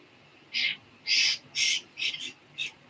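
Pet birds in a backyard give five short harsh calls in an uneven rhythm, loud and close, with quiet pauses between them.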